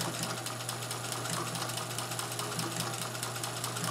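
A Singer sewing machine fitted with a blind stitch attachment runs steadily, its needle clattering in a fast, even rhythm under a low motor hum. It is fairly quiet and close, with no talking.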